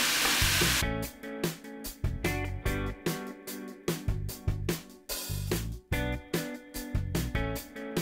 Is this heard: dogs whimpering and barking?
no